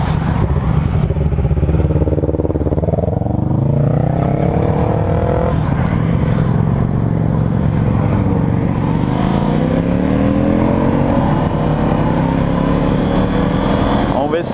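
A Honda CB500F motorcycle fitted with wider tyres is ridden, its engine droning loudly and rising and falling in pitch through gear changes, with wind noise and a voice talking over it.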